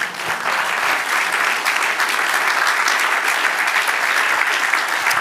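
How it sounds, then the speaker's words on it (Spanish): Steady, loud applause from a church congregation during a sermon, sustained clapping filling the room for about five seconds without speech. "Denle un aplauso al Señor"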